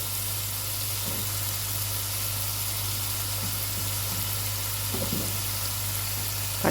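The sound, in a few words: curry leaves and tomato sizzling in pot for chicken biryani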